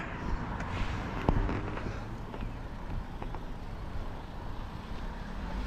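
Cars pass steadily along a street, a continuous broadband road rumble with a brief louder swell of one passing vehicle, no talk over it.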